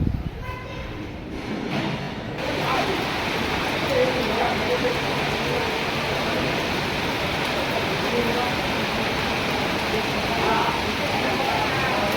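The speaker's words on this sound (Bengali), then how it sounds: "আকাশে মেঘ ভর্তি বৃষ্টি শুরু হয়ে গেছে" Rain falls outside the ISKCON temple in Mayapur as a steady, broad hiss of drops. A handling noise comes at the start, and the rain settles into an even wash.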